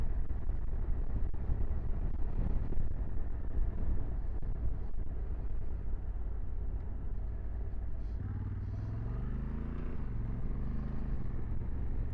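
A Honda CRF 1100 Adventure Sports DCT motorcycle pulling up to speed, a low engine drone mixed with wind buffeting, the pitch rising near the end as it accelerates, under a rider's voice.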